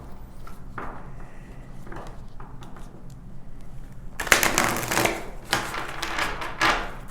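A deck of oracle cards is shuffled by hand in a tarot reading, first as soft scattered flicks, then as a louder dense riffle of papery slaps and rustles near the listener.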